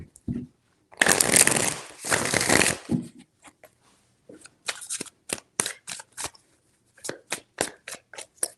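Tarot cards are shuffled in a dense riffling burst, then cut and tapped in a quick series of sharp separate flicks, close and alone.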